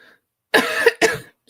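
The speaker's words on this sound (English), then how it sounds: "I'm so sorry for coughing into the mic." A person coughs twice right into a microphone, loud and close, with a short gap between the two harsh bursts.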